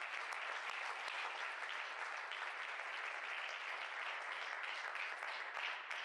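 A congregation at a Spanish-language church service applauds loudly and continuously, a dense steady wash of clapping hands with no pauses.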